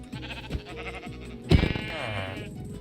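Sheep in the video game Minecraft let out a loud, wavering bleat partway through, over a busy stretch of clicks and game sounds before it.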